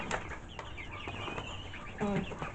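Several chickens in a backyard flock cluck softly and intermittently, with a louder burst of clucking near the end, heard up close and without talk.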